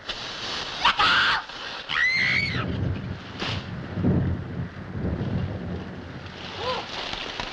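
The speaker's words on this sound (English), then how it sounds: "It's only a thunderstorm like we get back on Earth." Wind roars steadily in a thunderstorm with a wash of rain noise, punctuated by rumbling thunder bursts and sharp whistling tones; no one speaks.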